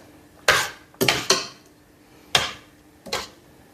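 Spoon clanks against a cooking pot while chili con carne is stirred, five sharp metallic knocks in two bursts, close and loud with no voices.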